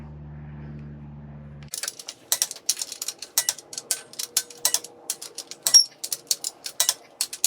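A torque wrench ratchets bolts down on a Honda H22 A4 engine block during a short block rebuild, giving a quick series of sharp, close metallic clicks in uneven bursts after a low steady hum.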